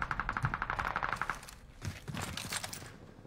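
Rapid automatic gunfire in Call of Duty Warzone, a fast even burst of close, sharp shots for over a second, followed by scattered cracks and a few more shots further off.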